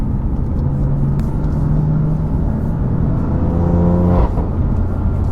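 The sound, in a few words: BMW F80 M3 accelerating in Sport Plus mode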